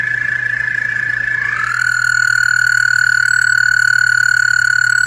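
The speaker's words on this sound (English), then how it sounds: "frogs can do the same thing." Loud, continuous frog calling, a steady ringing trill that shifts pitch partway through, with a low hum underneath.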